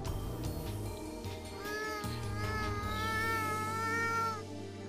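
A person imitates a cat meowing, a wavering, drawn-out voiced mew that rises and falls over a steady low background tone, fairly close and alone without other talk.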